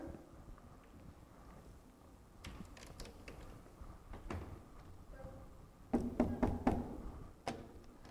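Several sharp knocks on a wooden door during a church Christmas play, arriving in two short bursts over a quiet stage background.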